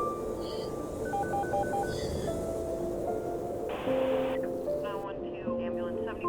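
Telephone keypad tones beep in short rhythmic bursts as a number is dialed, then a ringback tone sounds, all over steady background music.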